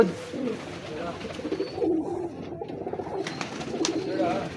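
Pigeons coo softly and steadily at a low level, with faint background noise and little else.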